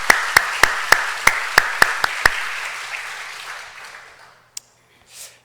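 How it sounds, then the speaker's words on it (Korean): A church congregation at a Friday night prayer meeting claps in unison, about nine sharp rhythmic beats over a rapid spatter of applause that tapers off, followed by a faint stray clap. "다시 한번 박수하십시다."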